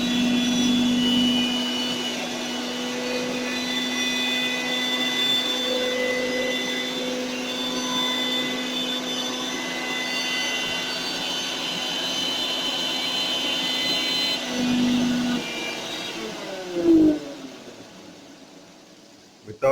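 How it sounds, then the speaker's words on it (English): A kitchen mixer grinder grinding chopped ginger and green chilli, a steady loud motor whine running continuously for most of the clip before it winds down and stops near the end. "So she's now grinding and mixing the chopped ginger and the green chilli."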